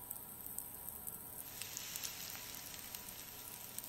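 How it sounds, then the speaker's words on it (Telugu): Soaked poha added to a hot frying pan: a faint, steady, soft sizzle with scattered light crackles and ticks, close and without talk. "ఆ పొడి పొడిగా ఉన్న పోహాని ఇందులో యాడ్ చేసుకుంటున్నా."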